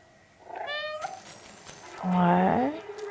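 A cat meowing in the video game Stray, two distinct meows, the second longer and louder, close and clear with no talk over them.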